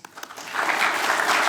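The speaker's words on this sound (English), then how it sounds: "Can I get a polite applause?" Polite audience applause at a university information evening, beginning with a few scattered claps and swelling into steady, moderate clapping from the room.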